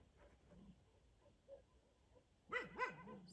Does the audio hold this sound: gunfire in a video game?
no